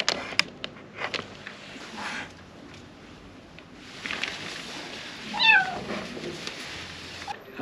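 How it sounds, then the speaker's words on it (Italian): A tiny stray kitten meows repeatedly while being fed scraps of cooked meat outdoors, thin high cries scattered through the stretch, one louder near the end, against quiet background sounds. "è proprio un cucciolo, quindi è lì che miagola"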